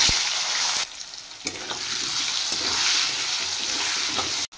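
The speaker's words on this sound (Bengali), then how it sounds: "এবার কেটে রাখা আলু ফ্রাই করে নেব।" Cut potatoes fry in hot oil, giving a loud, steady sizzle that runs almost unbroken, with a few brief clinks and stirring knocks before the sound cuts off sharply at the end.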